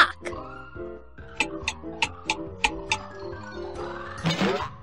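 Cartoon clock ticks in the Puzzingo toddler train puzzle game, a run of about eight evenly spaced crisp ticks over bright sustained musical tones, ending in a brief flourish.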